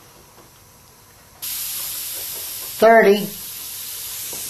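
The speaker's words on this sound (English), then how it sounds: "See how much finer a mist the paint is? It's not as granular. It's atomizing a lot better." An airbrush spraying paint with the air pressure turned up, a steady close hiss that starts abruptly and runs on, with a short spoken word over it partway through.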